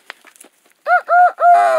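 A rooster crows close by, giving three loud, strained, rising-and-falling calls in quick succession after a few faint clucks and rustles.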